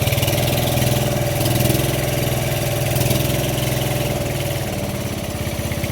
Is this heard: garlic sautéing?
no